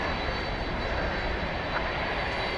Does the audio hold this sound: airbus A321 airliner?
yes